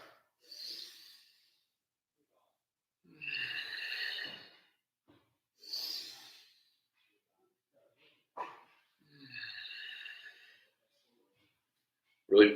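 Forceful, close breaths during a kettlebell workout: about five short, hard exhalations and snorts come in separate bursts with quiet pauses between them.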